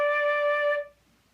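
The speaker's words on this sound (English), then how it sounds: "I make a sound on the flute by blowing across this hole." A single sustained flute note, made by blowing across the hole, clear and steady, held for under a second before stopping, close and alone.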